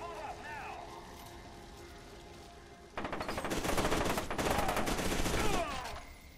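Rapid automatic gunfire from the video game F.E.A.R. 2: Project Origin erupts midway and rattles on in dense bursts for a few seconds, loud and close, after a stretch of quieter game ambience with faint voices.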